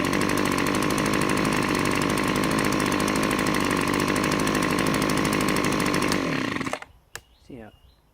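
Echo PB-251 handheld leaf blower engine running: a loud, steady two-stroke roar held for about six seconds before it cuts off abruptly, then a voice speaks briefly.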